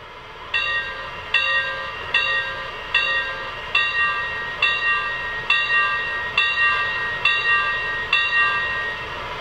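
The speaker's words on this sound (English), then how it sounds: "And here's the bell." The bell of a Weaver Models B&M P-4 model locomotive sound system rings in a slow, steady rhythm, about a dozen evenly spaced clangs, each fading before the next, over a low background hum.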